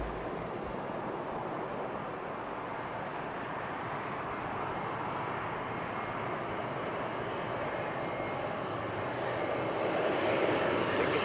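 An airliner with Neo winglets passes at Heathrow Airport, a broad steady engine roar that swells slightly toward the end.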